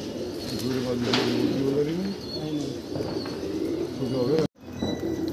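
Pigeons coo repeatedly in soft, throaty rolls close by, with faint chirps and background murmur; a brief dropout near the end.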